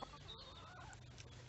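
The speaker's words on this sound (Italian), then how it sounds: "guardiamo un po' le nostre galline" Backyard hens cluck softly in a farm setting, faint scattered calls over a steady low background hum with no talking.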